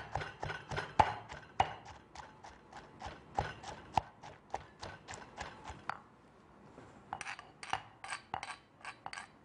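Chili paste ingredients, peeled garlic among them, pounded in a mortar with a pestle: a steady run of sharp, knocking thuds, near and fairly loud, pausing briefly before quicker strikes resume.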